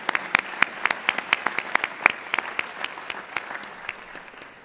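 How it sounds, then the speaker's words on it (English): Audience applause for graduates at a Methodist College graduation ceremony, a steady patter of many hands clapping with sharp individual claps standing out, tapering slightly toward the end with no talking. "We'll clap for you one more time."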